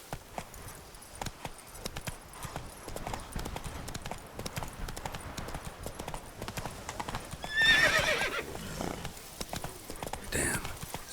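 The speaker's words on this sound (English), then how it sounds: "Come on, Roach" The horse Roach galloping in The Witcher 3: Wild Hunt, rapid rhythmic hoofbeats throughout with a loud whinny partway through, under game sound and some speech.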